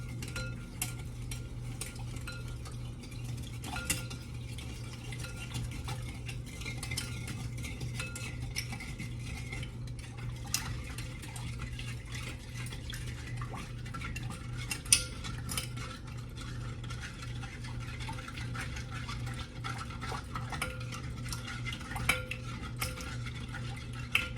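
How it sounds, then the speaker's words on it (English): A spoon scrapes and clinks quietly against the inside of a pot while stirring in salt, with a gritty rustle from the stirring running throughout. "So now you're just gonna stir this up a little bit."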